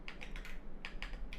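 Quick keystrokes on a computer keyboard entering Linux terminal commands, about eight close, crisp clicks in two short bursts with a small pause between, no talk.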